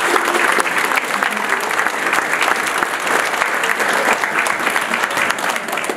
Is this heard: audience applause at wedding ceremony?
yes